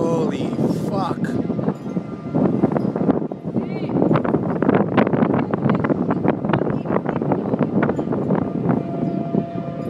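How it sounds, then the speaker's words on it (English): Strong, gusting wind during a tornado, a loud, rushing roar buffeting the microphone with irregular surges, and a distant siren-like wail under it while someone talks excitedly nearby. "Wow, it's really fucking windy."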